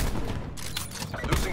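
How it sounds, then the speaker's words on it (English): Sniper rifle fire in a video game, with dense bursts of shots and gunfire crackling steadily over a constant loud battle din, voices faintly mixed in. "Sniper firing. Sniper firing."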